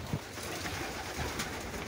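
Pigeons cooing softly in a loft, faint low coos scattered over a quiet background with no talking.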